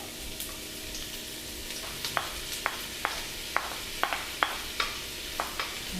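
Onions sautéing in a pot for broccoli cheddar soup, a soft steady sizzle running throughout, punctuated by a series of light clicks and scrapes from stirring, close and fairly quiet.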